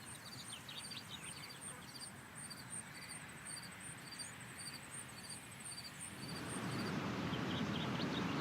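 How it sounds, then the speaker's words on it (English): Birds chirp in repeated high calls over a steady bed of cricket trills in a wild outdoor setting in the flight simulator X-Plane 12, with the insect chorus swelling louder toward the end. "even birds and crickets in the wild"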